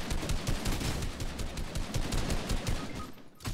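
Rapid automatic gunfire in the Fortnite video game, dense bursts of shots rattling continuously and loudly for a few seconds before a short lull.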